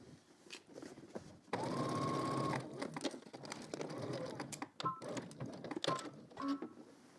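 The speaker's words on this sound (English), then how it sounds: "let's head to the sewing machine" A sewing machine stitches fabric for a sewing pattern project, with a sustained whirring run in the middle between shorter bursts and scattered clicks and handling noises, fairly quiet overall.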